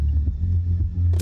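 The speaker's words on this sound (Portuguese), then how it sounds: "Esse barulhinho que ela faz aí é porque ela tá recarregando" A spaceship's weapon recharging in the space shooter game Subdivision Infinity DX, heard as a steady low electronic hum and rumble that pulses slightly and brightens with a hiss at the very end.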